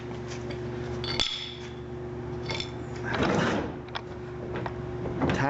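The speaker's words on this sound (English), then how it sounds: "Get a little hammer." A small hammer taps a pin into a plastic Rubbermaid deck box during assembly: a sharp knock near 1.2 seconds, a few lighter clicks and knocks, and a rustling scrape in the middle, all close up against a steady low hum.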